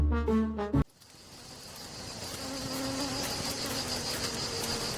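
Bees buzzing as they leave their hive, a steady insect drone with a faint tonal whine that follows a brief musical chord at the start and keeps going at moderate loudness.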